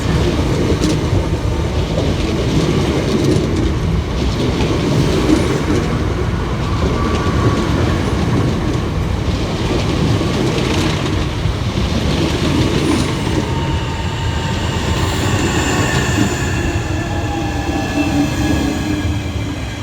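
Southeastern Class 465 electric multiple unit arriving at Waterloo East station during the morning peak, a loud, continuous rumble with rail clatter and faint wheel squeal that holds steady throughout, with no voices.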